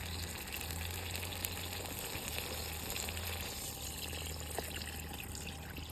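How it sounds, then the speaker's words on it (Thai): Water pours steadily into a cooking pot while a Thai curry sauce with banana stem and chicken feet is being made, a continuous close splashing gush with a faint hiss and no talking. "เราก็จะใส่น้ำเข้าไปเลยนะพี่พี่"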